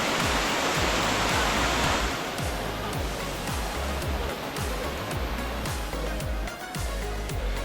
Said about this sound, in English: the sound of the rushing water is almost therapeutic